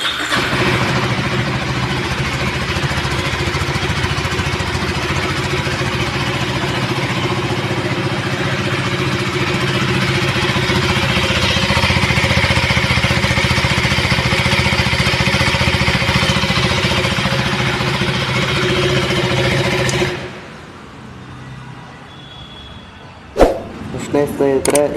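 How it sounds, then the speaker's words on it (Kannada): A KTM Adventure 390 motorcycle idles steadily with a loud, close exhaust rumble for about twenty seconds, then the engine cuts off, followed by a few sharp clicks and handling noises. "ಗಾಡಿ ಎಕ್ಸಿಟ್ ಸೌಂಡ್ ಯಾವ ಥರ ಇದೆ ಅಂತ ತೋರಿಸ್ತೀನಿ"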